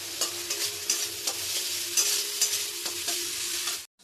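Spices and softened tomatoes sauté in a pan with a little added water, a steady close sizzle punctuated by rhythmic stirring scrapes at regular intervals, with no talking, ending abruptly.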